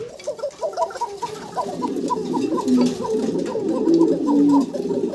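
At a pigeon farm, fancy pigeons coo repeatedly in soft, throaty bursts over a busy, murmuring background, the calls overlapping and rising a little louder toward the end.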